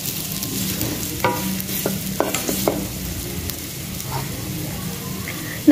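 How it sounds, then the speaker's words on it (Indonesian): A filling of sweet corn, sausage and meatballs sizzles softly in a pan for homemade pizza, with scattered scrapes and clicks from stirring over a steady frying hiss. "kita tumis sampai wangi."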